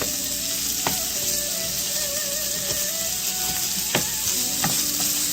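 Remaining onions sizzling as they fry in a pan for chicken spring rolls, a steady close crackling hiss with occasional utensil clinks and stirring, no talking.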